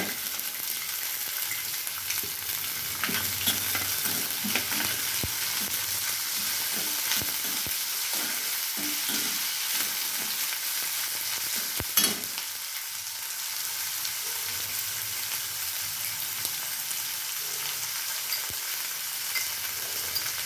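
Steady oil sizzle and crackle from a pan of onions frying after green chillies in a tempering for radish stir-fry, with occasional soft stirring clinks; no one speaks.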